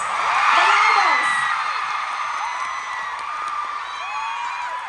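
A fan-meeting crowd in Manila roars with loud, sustained cheering, whoops and screams for Ju Ji Hoon, a dense wall of voices swelling early and holding steady.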